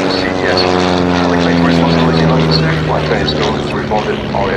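A 1951 De Havilland Chipmunk propeller aircraft flying at the RAF Cosford air show, its engine a loud, steady, close droning roar with a rich buzzing tone that holds throughout.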